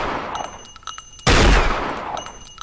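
A single loud, sharp gunshot blast from the 1999 video game Unreal Tournament bursts out about midway through, standing well above a faint, steady game-ambience background.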